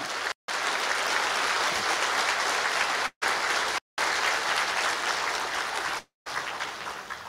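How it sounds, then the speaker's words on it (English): A crowd applauds loudly and steadily, the dense clapping briefly dropping out in a few short gaps. "Give yourselves a round of applause."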